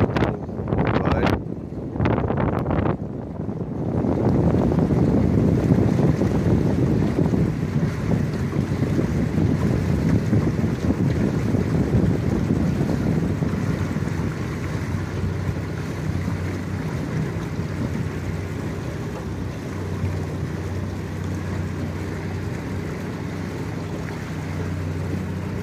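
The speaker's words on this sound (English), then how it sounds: "Notice the catamaran build of the Fiji Princess, allowing her to sail even in choppy waters, which is very rare." Steady wind noise and a broad, rushing water wash from the Fiji Princess, a catamaran cruise boat under way in choppy water, loud and continuous with a few sharp gusts buffeting the microphone early on.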